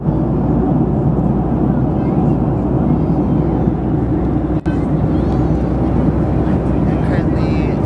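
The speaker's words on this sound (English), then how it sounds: "I'm currently in our plane ride." Steady, loud broadband roar of an airplane cabin in flight en route to Denver, a constant engine and air rush without pause, with one brief click partway through.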